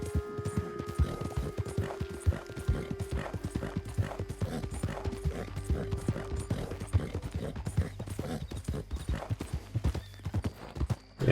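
A horse gallops in Red Dead Redemption 2, with rapid rhythmic hoofbeats running across the whole stretch under a low musical drone, fairly close and even.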